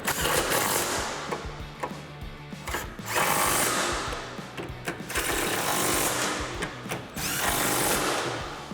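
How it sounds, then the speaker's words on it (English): A 3/8-inch impact gun with a 13mm socket tightens bolts while Eibach Sportline lowering springs go into a 2011-2014 Mustang, firing in several loud, rattling hammering bursts separated by brief quieter gaps. "We're going to take our 13mm gun, our socket on our 3/8 gun, and tighten these up."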